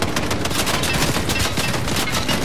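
Dense, continuous automatic gunfire in the video game Fortnite, loud and rapid, crackling without pause.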